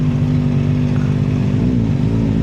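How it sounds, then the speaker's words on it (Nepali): A motorcycle engine on a street in Tokyo gives a steady, close, low rumbling idle with no break for a couple of seconds. "वाह अर्को बाइक खतरा बाइक भेटियो"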